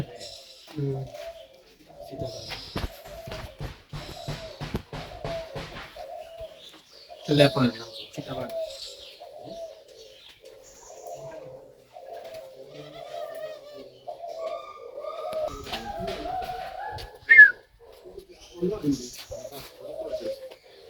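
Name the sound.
unidentified bird calling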